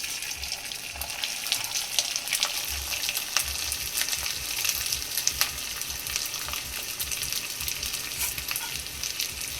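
Steady loud sizzling of jeera rice frying in a hot cumin tempering, cooked rice just tipped into the oil, with faint stirring and scraping in the pan and no voices.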